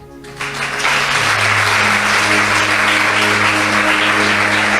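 A church congregation breaks into applause, rising quickly into sustained loud clapping that fills the room, with a steady tone held beneath it.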